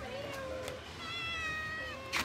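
A cat meows several times in soft, drawn-out calls, close by but quiet, with a brief noisy burst near the end.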